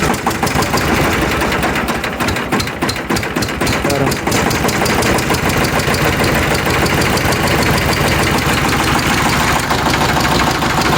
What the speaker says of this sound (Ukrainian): Ну то єсть я трохи пустив ключа зарано. Завів його стартер. Він став тихіше робити.